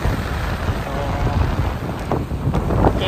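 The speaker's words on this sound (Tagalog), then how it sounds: "medyo may kalakasan ng hangin" Strong seashore wind during beach fishing on Saipan buffets the microphone in a steady, rough roar with gusty swells throughout, and no other clear sound stands out.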